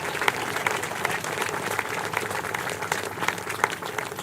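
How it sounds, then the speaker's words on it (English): Audience applause at a Montford Point Marine Day ceremony, steady and dense throughout, with individual claps standing out over the crowd and no pauses. "So let's give them a round of applause"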